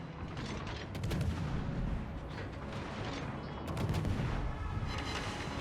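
Destroyer Mogador firing armour-piercing shells in a naval combat game, a dense, continuous barrage of booming gunfire with overlapping blasts and swells of louder salvos, no talking.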